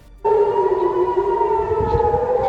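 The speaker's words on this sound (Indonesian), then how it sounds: "Suara sirine serangan udara terdengar di Yerusalem, disertai beberapa kali ledakan." An air raid siren wails in Jerusalem, a loud steady two-tone civil defense warning that holds its pitch from just after the start to the end, with faint low rumbling underneath.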